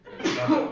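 A single sneeze in a school board meeting room, a short burst rising quickly and fading over under a second, close and fairly loud.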